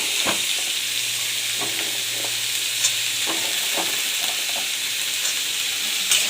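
Chopped potato fries in a hot pan with a steady close sizzle, broken by repeated scraping strokes of stirring, with no voices.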